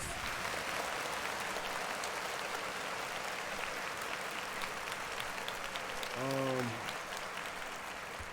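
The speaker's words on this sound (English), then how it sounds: "Clap it up for me one more time." Audience applause at a service event, a steady wash of clapping from a crowd that runs evenly through the whole stretch, with a brief tonal voice-like sound rising near the end.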